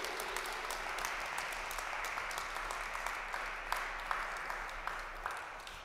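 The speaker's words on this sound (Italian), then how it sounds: "Fai un applauso." Audience applause at an Italian catechesis talk on childhood, a steady wash of many hands clapping at moderate level throughout, with a few sharper individual claps standing out near the end.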